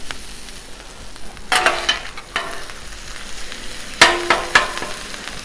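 Chorizo frying on a 36-inch Blackstone griddle: a steady sizzle broken by sharp grease pops and a few scraping stirs, close and fairly loud, with no talking.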